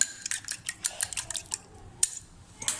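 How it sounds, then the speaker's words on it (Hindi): A spoon clinks quickly against a bowl while whisking two eggs, a run of light, irregular metallic taps with a short pause before a few more strokes. "ये 2 अंडा जो हमने रखा था इसको हम फेंट लेंगे।"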